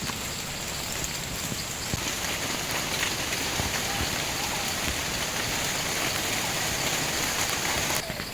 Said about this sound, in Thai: ตอนนี้ฝนก็ซาลงแล้วนะครับ